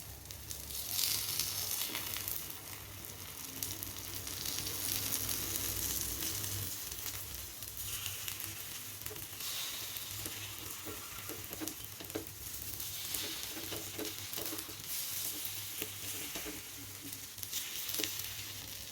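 Green moong dal paniyaram frying in oil in a paniyaram pan, a continuous close crackling sizzle that swells and eases over time with a few faint clinks and scrapes, no voices.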